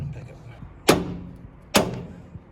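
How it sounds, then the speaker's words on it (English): Two hard thumps of a car seat being beaten loose in a VW Beetle, each a sharp loud bang about a second apart, close by, with a faint third knock after. "Once it's past that, we can beat the seat out."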